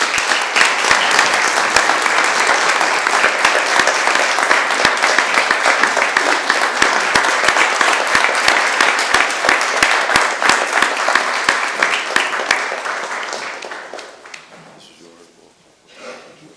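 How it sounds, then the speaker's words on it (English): An audience at a city council meeting in Erie, Pennsylvania applauds in a loud, sustained burst of clapping that fades out near the end, followed by a brief voice. "Let's give Dorian a round of applause."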